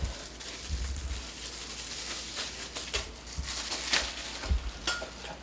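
Ground beef sizzling and crackling in an electric skillet, a steady hiss of frying with scattered pops and occasional stirring scrapes, close and fairly quiet, no one talking over it.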